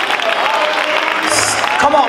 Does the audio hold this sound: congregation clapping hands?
yes